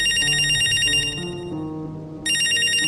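Loud electronic mobile phone ringtone trilling close by in a repeating pattern, cutting off briefly before starting again, with no voices.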